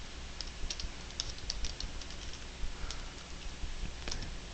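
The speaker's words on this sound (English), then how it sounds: "And you can type in your full name." Rapid, uneven keystrokes rattle close up on a computer keyboard, a dense run of light clicks over a faint background hiss, with no talking.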